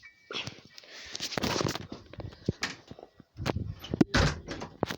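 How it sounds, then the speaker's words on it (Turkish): Footsteps and shuffling lead into a door being pushed shut in a quiet room, followed by a few sharp knocks and thuds, with a louder closing bang near the end. "Bekleyin kapıyı kapatıp geliyorum."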